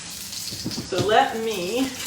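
A small piece of potato sizzles in a frying pan with a soft steady hiss, while someone talks briefly over it.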